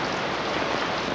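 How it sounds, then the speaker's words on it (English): Steady rain patters on a surface overhead at the Othello Tunnels, a dense continuous hiss of drops heard close and fairly soft with no talk. "You can hear the rain bouncing off of the top of my..."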